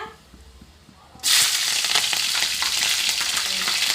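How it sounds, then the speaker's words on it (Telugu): Green chillies drop into hot oil in a pan for a gram flour curry, setting off a sudden loud sizzle that stays steady and close after a quiet start. "నెక్స్ట్ వచ్చేసి పచ్చిమిర్చి వేసేసుకుందాం."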